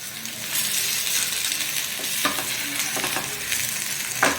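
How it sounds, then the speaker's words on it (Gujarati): Paneer cubes shallow-fry in oil in a pan, giving a continuous bright sizzle, with occasional scrapes and clinks as the pieces are stirred and turned over. "આ રીતે પનીરને આપણે ઉલટાવતા જવાનું અને સેલો ફ્રાય કરતા જવાનું"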